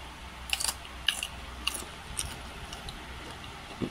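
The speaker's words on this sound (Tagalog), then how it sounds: "Kinakain ng hilawang okra at wala tong pait o anuman." Raw okra is bitten and chewed close up, giving several sharp crisp crunches at irregular intervals over quiet background.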